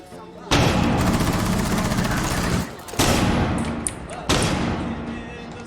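A flashbang grenade goes off in a PC shooter game: three loud, close blasts, each a sudden full-spectrum burst that rings out and fades slowly before the next.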